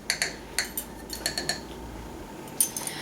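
A metal teaspoon clinks sharply against a bowl while salt is added to three cups of flour for lavender orange scones, a quick run of close, bright taps followed by a pause and a single louder clink.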